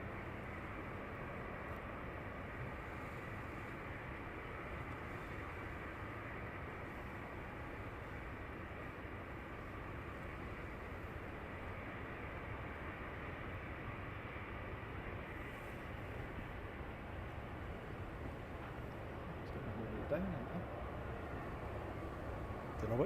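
Aircraft taxiing at East Midlands Airport at night, a steady low engine rumble and broadband roar that holds evenly throughout at a distance, with a slight bump near the end.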